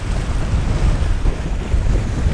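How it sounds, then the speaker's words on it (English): Strong wind buffets the microphone with a loud, continuous low roar while waves slosh and surf against a fishing boat out on choppy water, and no one speaks. "The wind's so strong."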